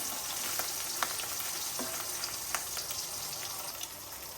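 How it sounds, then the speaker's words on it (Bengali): Fish frying in hot oil on a gas stove gives a steady, dense sizzle with scattered small pops and crackles, close and continuous. "মাছগুলো তো তেলে দিয়ে দিচ্ছে"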